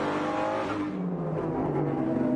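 Race cars, including a Lamborghini, roaring past during the Grand Prix of Long Beach street race, a loud, continuous engine drone that shifts pitch as the cars accelerate and pass, with no voices.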